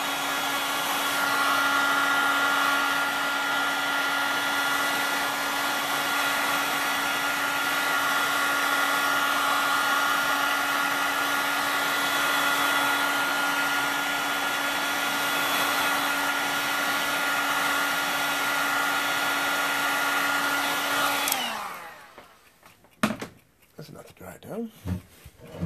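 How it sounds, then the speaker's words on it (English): A heat gun blows steadily to dry paint on a small winter painting, a constant loud whooshing hum held for about twenty seconds before cutting off, followed by light handling noises. "a heat gun. So we'll see how this goes."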